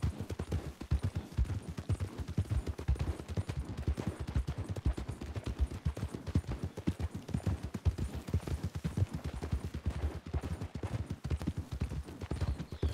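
Horse hooves clip-clop in a western video game, a steady, brisk, fairly close rhythm of hoof beats that continues evenly throughout with no talking.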